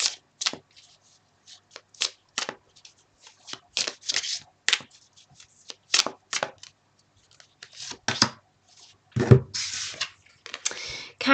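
Tarot cards shuffled and cut repeatedly, papery snaps and riffles in irregular bursts with brief pauses, close up, with a faint voice at one point.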